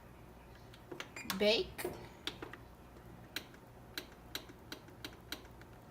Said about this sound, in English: click it again, and it should click if you heard it